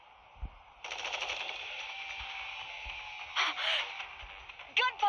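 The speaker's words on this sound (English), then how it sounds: "Gunfire!" Bursts of rapid gunfire in the video game Goddess of Victory: Nikke sound over a steady electronic hum, coming in short volleys near the end.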